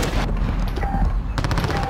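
Shotgun fire in the video game Call of Duty Modern Warfare, loud booming blasts with dense crackling gunfire at close range, no talk.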